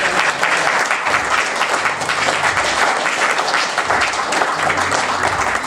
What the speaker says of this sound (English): let's give a round of applause to Doug and the rest of the group that organized this seminar